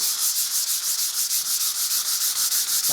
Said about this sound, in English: I thought I'd just sand this little area down here